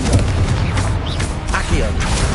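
A Confringo fire spell blasting in the Hogwarts Legacy video game, heard as loud, dense, booming bursts with a heavy rumbling low end, sustained throughout amid other game effects.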